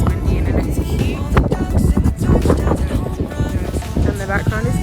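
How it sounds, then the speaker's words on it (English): Strong wind buffets the microphone on an exposed coastal hilltop in Dorset, a loud continuous roar that gusts and swells, with a voice talking over it throughout. "it's getting windier up here"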